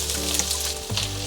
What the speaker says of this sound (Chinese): 现在放入香菇，继续翻炒